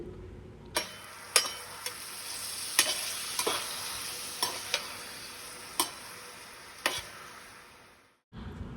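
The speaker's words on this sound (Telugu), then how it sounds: "సో ఇవంతా ఫ్రై చేసుకుందాం ఆయిల్లో" Ingredients fry gently in oil on a low flame, giving a steady soft sizzle broken by sharp scraping taps of a spoon against the pan at irregular intervals.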